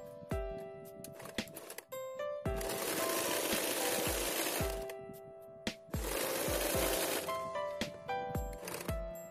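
A sewing machine sews a folded waist belt in straight seams, running in two long bursts with sharp clicks and knocks of handling between and around them.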